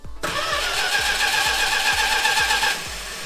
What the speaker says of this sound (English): That old muscle car rumble.